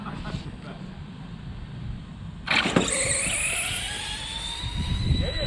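An RC drag racing car rips down the strip on a test-and-tune pass, its electric whine rising sharply in pitch partway through, loud and close over crowd chatter and voices.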